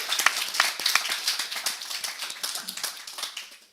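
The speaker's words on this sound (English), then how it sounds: "please give a big round of applause to all those students" Audience applause for students at a Year 11 principal awards ceremony, a dense spread of clapping from many hands, steady throughout and fairly close, with no talk.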